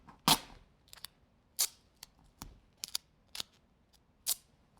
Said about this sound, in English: I'm going to actually rip those into tiny little pieces.